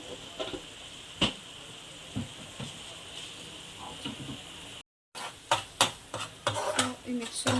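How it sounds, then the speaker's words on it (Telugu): A spoon stirs a spice mixture with chili powder in a frying pan, making repeated scraping strokes over a faint sizzle, with a brief silent break partway through. "సో ఈ మిక్చర్ అంతా బాగా మిక్స్ చేసాము"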